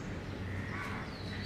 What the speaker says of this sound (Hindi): और चिड़िया एकदम चहचहा रही है